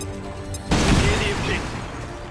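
A grenade in XCOM 2 bursts suddenly into a loud, close boom followed by a rumbling, crackling decay, with game noise beforehand.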